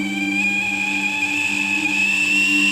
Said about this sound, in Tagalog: Dahil na sa pito ng kumukulong tubig sa takure